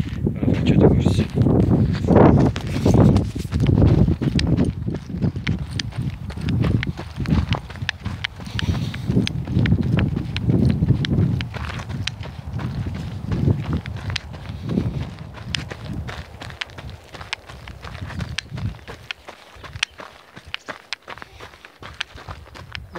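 Running footsteps thud along a trail on Mount Etna at a quick, steady pace, close and fairly loud, with faint talk in places before the steps fade out near the end.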